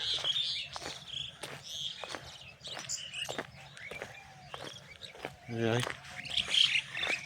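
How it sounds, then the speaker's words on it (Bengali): Birds squawk and chirp repeatedly outdoors, sharp calls scattered throughout over a low steady hum, with a louder burst of calls near the end. "এই হচ্ছে সড়ক পাখি দেখো রাস্তায় বসে আছে"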